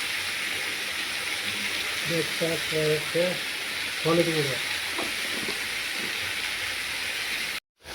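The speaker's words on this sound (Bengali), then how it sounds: "ভালো করে ভালো করে কষতে হবে মশলাটাকে" Masala spices for a Bengali soybean curry fry steadily in a pan, a broad continuous sizzle and hiss with a little stirring, while a person talks briefly partway through, before a sudden cutoff near the end.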